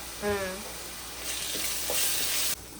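Homemade garam masala and spices frying for a fish curry, a close sizzle in the pan with a brief voiced sound at the start, then a bright steady hiss that drops suddenly near the end.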